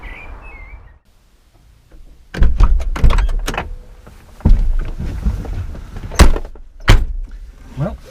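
Someone gets into a Volkswagen Mk1 Golf GL: a brief bird-like chirp, a pause, then a run of close thuds, clunks and rustles like a door handle, seat and door being worked, ending in a few sharp knocks.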